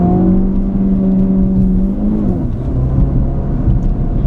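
The engine of a 2017 Ford Focus RS with a manual gearbox drones loud and close as it accelerates. Its steady pitch drops as the gears change, and there is no talking.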